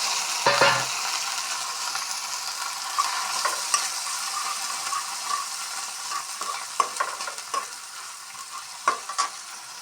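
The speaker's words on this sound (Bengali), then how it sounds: "পেঁয়াজগুলি মোটামুটি ভাজা হয়ে আসছে এখন এগুলো আর বেশি ভাজবো না এখন দিয়ে দিচ্ছি শুটকি মাছ" Dried fish added to onions frying in a pan gives a continuous loud sizzle, with a few sharp scrapes and taps of a utensil stirring against the pan.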